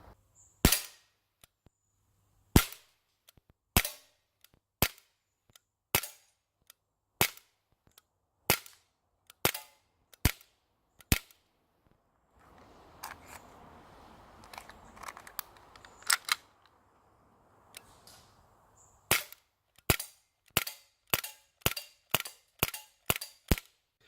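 Sharp gunshots crack out one at a time at an outdoor gun range, a steady string of loud single reports with a short burst of rustling noise partway through before the firing resumes.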